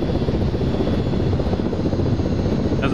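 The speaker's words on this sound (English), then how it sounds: "That's a big helicopter." A large helicopter in a war video game thunders close and loud, its rotor chopping in a continuous, dense rumble throughout.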